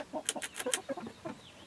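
Pasture-raised chicken pullets cluck in quick, soft, close bursts, a short run of chirpy clucks and murmurs.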